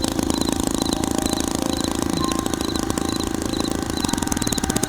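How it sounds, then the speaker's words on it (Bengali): A motorcycle engine runs close by with a rough, steady, fast-pulsing throb that holds an even level from start to finish. "সুমন কোনো রকমে বাইক স্টার্ট করে শহরের দিকে ফিরে যায়"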